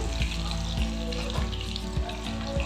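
Onion hits hot oil already fragrant with a bay leaf for a home-cooked green-chilli and coriander chicken curry. It gives a steady, close sizzle with soft rhythmic knocks of stirring.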